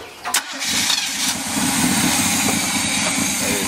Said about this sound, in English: Go ahead and crank it up, bud.